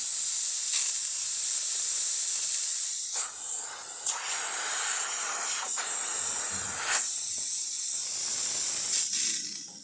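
A loud, continuous steam hiss blows from an espresso machine steam wand for about ten seconds, with brief surges and dips as the jet shifts, close and unbroken by talk.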